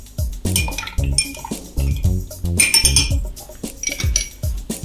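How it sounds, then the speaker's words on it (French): Bar mixing spoon stirring a mojito full of ice in a glass: close, bright clinks and rattling ice knocks in a quick, uneven rhythm, with faint liquid sloshing. "Donc nous reprenons notre cuillère à mélange. Voilà. Afin de touiller un peu."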